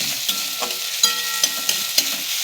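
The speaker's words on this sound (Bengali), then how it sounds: "আদা রসুনটাকে ভালো করে লাল করতে হবে" Crushed ginger and garlic fry in a hot pan with a continuous loud sizzle, and a handful of sharp scraping stirs break through at irregular intervals.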